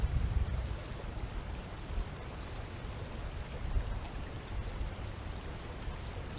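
A river flows downstream past a small grassy island, giving a steady broadband wash over a low rumble that pulses slightly throughout, with no voices.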